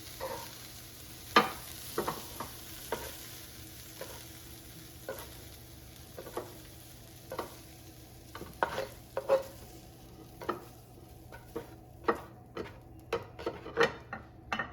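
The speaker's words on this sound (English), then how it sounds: "So now I'm going to remove them from the frying pan" A metal utensil scrapes and taps against a frying pan in a steady, irregular rhythm as ground turkey fajita filling is removed, with a soft sizzle running underneath throughout.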